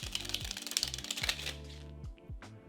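Playing cards riffle in a rapid cascade of crisp flutters and taps, close and fairly quiet, with a brief pause near the end.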